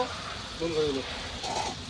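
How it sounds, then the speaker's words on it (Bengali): Onions sizzle in a pan while a utensil stirs them with a couple of brief scraping sweeps, close and steady. "নাড়াচাড়া করতে হবে, ভেজে নিতে হবে"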